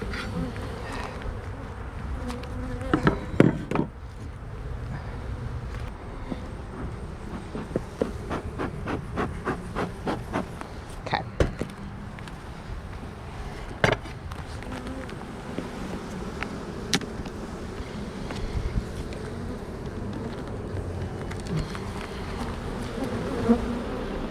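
Honeybees buzz around an open hive during an inspection for honey, nectar, pollen and brood, a continuous close drone with individual bees passing near, plus a few clunks and knocks of hive equipment early on.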